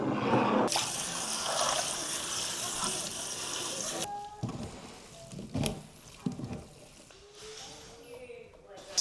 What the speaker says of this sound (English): I'm just going to clean the mulberries first. So let them soak in the bottom